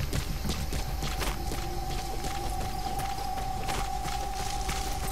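Rapid rhythmic hoofbeats of a galloping horse in the video game Metal Gear Solid V: The Phantom Pain, over a dense, steady background noise, with a sustained tone running underneath.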